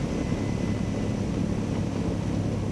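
A small airplane's engine idles in a steady low drone as the plane rolls along a runway, with no talk.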